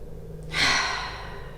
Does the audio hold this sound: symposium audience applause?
no